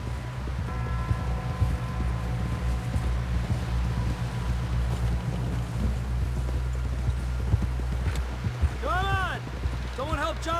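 Horse hooves clip-clop at a steady walking rhythm in Red Dead Redemption 2, a constant mid-level beat under game ambience with wind, steady low rumble and voices talking over it.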